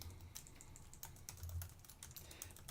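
Keystrokes on a computer keyboard as code is entered, a steady run of quiet, close clicks with a few louder taps, no voices.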